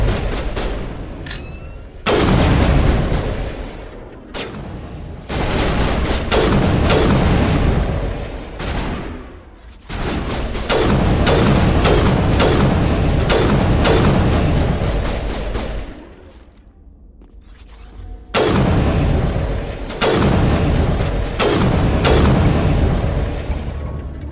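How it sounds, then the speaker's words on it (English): Sustained gunfire rattles through a Mass Effect firefight, dense volleys and booming shots coming in long bursts with brief lulls, loud and close, with no voices. "Open fire! Open fire!"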